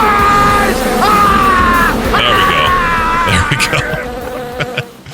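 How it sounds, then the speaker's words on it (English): A loud soundboard effect of a buzzing bee swarm, with dense droning insect whines that bend in pitch, and yelling voices over it. "there's the bee sound"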